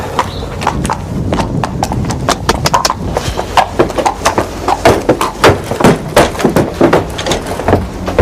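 Horse hooves clip-clop at a steady walking rhythm, loud and close, the sharp knocks repeating throughout with no talk over them.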